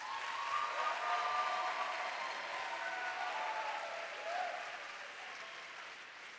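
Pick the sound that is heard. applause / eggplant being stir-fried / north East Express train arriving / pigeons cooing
applause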